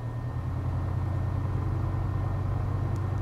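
A Piper PA-28R Arrow III engine held at about 2,000 RPM in Flight Sim World, a steady low propeller drone and rumble, continuous and even, heard alone without voices.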